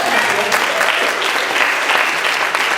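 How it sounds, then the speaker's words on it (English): Steady applause from an audience, dense clapping that holds evenly throughout without pause. "Give her a round of applause."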